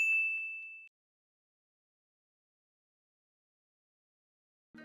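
A notification bell gives a single bright ding that rings for under a second and fades, followed by silence and a brief faint sound at the very end.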